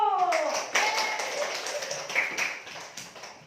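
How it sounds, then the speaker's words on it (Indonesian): A class of children claps together in a classroom, a quick burst of hand claps that fades over a few seconds, with young voices mixed in. "tepuk tangan dulu"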